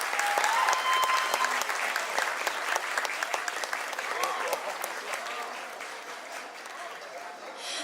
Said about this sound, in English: give a big round of applause while we wait to get securely up